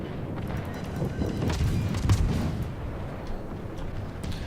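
Naval gunfire from ships in the World of Warships video game, a rumbling run of distant booms and artillery thuds rolling over one another, the heaviest blast near the middle, with no talking.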